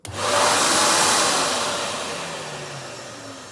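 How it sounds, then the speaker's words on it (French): A vacuum extractor on a sandblasting cabinet starts abruptly and roars with a loud, harsh broadband whoosh that slowly eases slightly while running steadily; a single spoken word is heard at the start. "L'aspirateur mais qui fait juste un bruit horrible."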